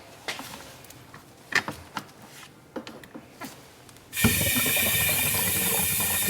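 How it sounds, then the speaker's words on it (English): Compressed air from a compressor hose pushes liquid into a tank through its fill nozzle, first as scattered close clicks and knocks, then as a sudden loud, steady rushing bubble and hiss that holds to the end. "You can hear it bubbling up in there."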